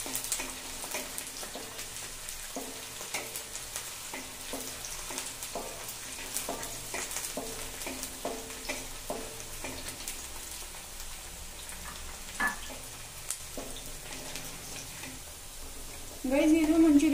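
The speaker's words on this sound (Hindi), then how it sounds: "प्याज को हम हल्का ब्राउन करेंगे।" Onions frying to a light brown in a pan give a continuous soft crackle and sizzle with scattered popping spits and light stirring, close and fairly quiet, louder in the last moments.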